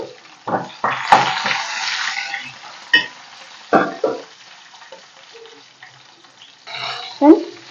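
Green chillies, cumin seeds and garlic cloves fry in a little oil for a ridge gourd and tomato pachadi. Close, intermittent bursts of sizzling mix with scraping stirs, and quieter gaps fall between them.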